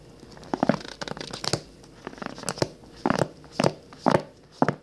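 Thick turquoise Bible paper pages crinkle and rustle as they are handled. The sharp, irregular crackles are close and clear, and no one speaks.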